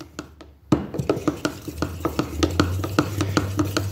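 Liquid red and orange pigment being stirred into Rust-Oleum paint for a candy apple red finish, a steady run of close, soft scraping and tapping strokes against the container.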